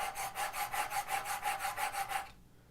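A knife blade is sharpened on a stone with even pressure along its length, about a dozen rhythmic, evenly spaced rasping strokes, close and clear, that stop abruptly near the end.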